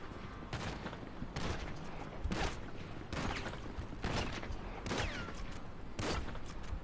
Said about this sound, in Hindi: यहाँ से तो गोलियों की आवाज़ आ रही है।